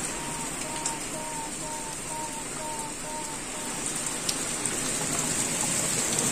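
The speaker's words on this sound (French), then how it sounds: "Ça pleut comme il faut." Heavy rain pours steadily in Pisa, Italy, in a constant dense hiss, with a faint repeating tone in the background.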